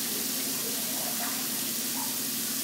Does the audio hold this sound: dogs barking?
no